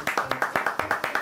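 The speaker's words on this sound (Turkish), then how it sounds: "Alkışlar." Steady rhythmic hand clapping on a home-cooking competition show: about a dozen crisp, evenly spaced claps in quick succession, close and clear, with a faint voice underneath.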